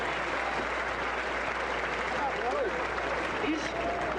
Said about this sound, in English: How about a round of applause for a fine cowboy having a bit of bad luck?